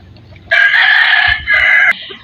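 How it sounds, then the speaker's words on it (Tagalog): A rooster crows loudly and close in a backyard poultry yard, two long strained calls in quick succession, with faint hen clucks and rustling underneath. "nandito na naman ang manok"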